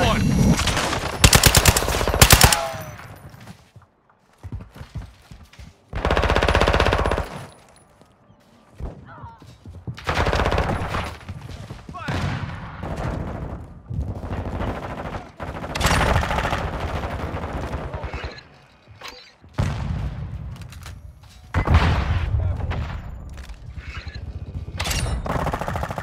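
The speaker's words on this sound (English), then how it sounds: "Taking effective fire!" Call of Duty MW2 team deathmatch gunfire: loud bursts of machine gun fire come in repeated clusters with short pauses between, along with scattered shots, thuds and brief in-game radio voices.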